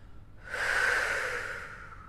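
A long breath out during a beginners' Pilates hamstring stretch, a single soft airy exhale close to the microphone that swells and slowly fades over about a second and a half.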